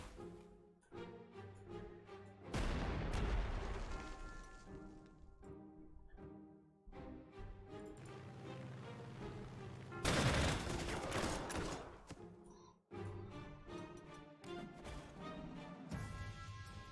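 Artillery and gunfire in the wartime strategy game Panzer Corps 2 during an assault on Kiev, heard as bursts of booming fire and crackling shots over a steady musical backdrop, with two loud heavy volleys standing out.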